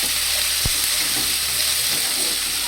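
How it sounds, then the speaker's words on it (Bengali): Eggs frying in a pan with chopped green chili and tomato, a steady hiss of sizzling that runs throughout with one brief scrape of stirring, no talking. "এবার আমি লঙ্কা কুচি আর টমেটো কুচি দিয়ে দেব। দিয়ে ভালো করে নাড়াচাড়া করে নেব।"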